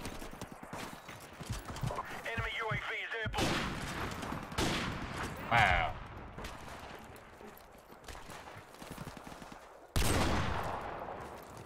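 Gunfire from the video game Modern Warfare Remastered, played on PC, comes as several sharp bursts and volleys spread across the stretch, mixed with other clattering in-game effects and quieter gaps between shots.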